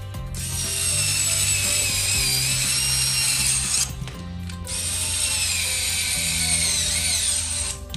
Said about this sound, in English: now I'm gonna put in some drywall screws.